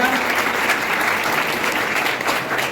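A crowd at a Kunbi community student felicitation ceremony in Guhagar taluka applauds the students with loud, continuous clapping from start to finish.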